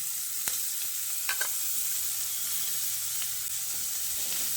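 Chopped eggplant pulp sizzling in a pan with ginger and black cumin, a steady frying hiss with a few sharp stirring clicks and scrapes, close and alone.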